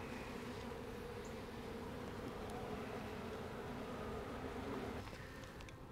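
Honey bees buzz steadily and densely around a hive frame in a whiskey barrel hive, a continuous close swarm hum with no pauses.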